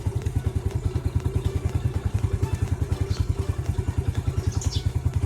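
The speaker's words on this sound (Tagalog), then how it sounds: "pinandar ko ng motor" A motorcycle engine started and running at idle nearby. It gives a fast, even chain of low thumping pulses that holds steady throughout, with no speech over it.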